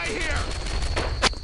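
Rapid gunfire in the World War II shooter Brothers In Arms: Earned in Blood, dense overlapping shots and impacts crackling across a short burst with a sharp louder crack near the end.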